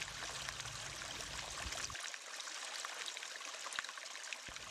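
Cool spring water flows out of stone, a steady broadband rush of running water; a low rumble underneath drops away after about two seconds, leaving the trickling stream alone, with a couple of brief low thumps near the end.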